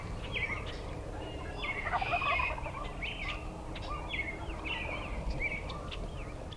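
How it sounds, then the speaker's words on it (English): A wild turkey gobbles during a spring crossbow hunt outdoors, its repeated rattling calls coming from a moderate distance over steady wind and ambient noise, with no talking. "We had another bird gobble behind us."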